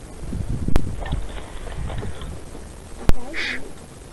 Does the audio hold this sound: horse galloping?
yes